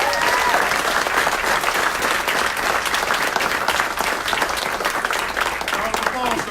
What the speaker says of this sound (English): Let's give a round of applause to Officer John Gray.